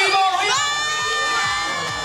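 An evening crowd at a spring break event cheers and whoops loudly, a continuous mass of excited shouting voices close by with no pauses.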